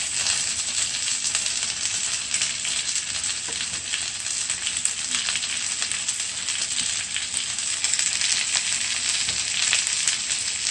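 Steady, loud sizzling of chicken frying in a hot pan over onion and garlic for Jamaican-style chicken adobo, a continuous crackling hiss with faint stirring and no talking.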